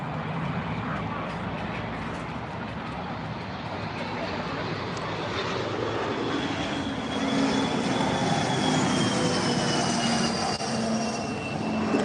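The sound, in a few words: aircraft flying over near Hawthorne Airport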